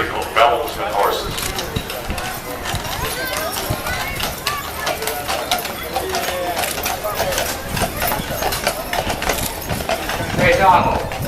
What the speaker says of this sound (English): Beautiful bells and horses.